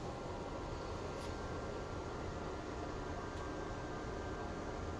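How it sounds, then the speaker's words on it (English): A steady hiss of white noise from a bitcoin-mining computer fills the background, constant and unchanging like a whirring computer fan, with no other sounds standing out. "I apologize if you hear some sort of white noise in the background."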